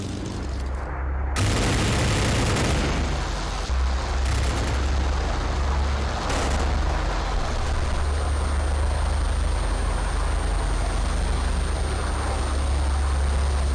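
Aircraft engine drone in a flight simulation game with RAF versus German planes, a loud continuous low roar broken by a sudden jump in level and a few sharp bursts.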